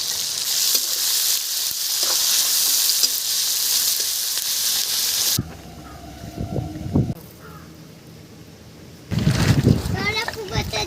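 Onions fry in oil with whole cardamom, cloves, cinnamon and bay leaf, giving a steady loud sizzle for about five seconds before it drops away; crows caw and people talk in the quieter stretch afterward.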